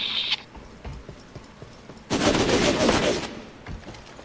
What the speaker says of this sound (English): Masson's still taking pot shots at those injured officers.